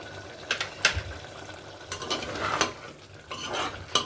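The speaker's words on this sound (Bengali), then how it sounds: "মিশিয়ে নিয়ে কষিয়ে নেবো" Mutton rezala stirred and sautéed with masala in a pot, with repeated scraping, clinking spoon strokes over a low sizzle, close up and no one speaking.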